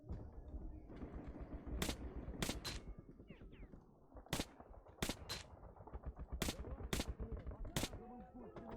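Gunshots in Metro 2033 Redux: about nine sharp, loud single shots at irregular intervals over steady game ambience, with someone talking in between.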